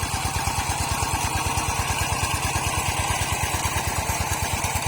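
Walking tractor engine running close by on a Thai farm during watermelon planting, a loud steady rapid chugging thump with an even mechanical rhythm throughout, no talk.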